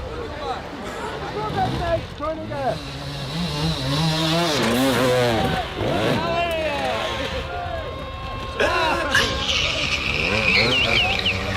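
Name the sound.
dirt bike engines revving with wheels spinning in mud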